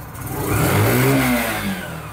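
A Libero 125 motorcycle engine, freshly fitted with a new carburetor, revs up from a steady idle and eases back down, loud and close with no talk over it.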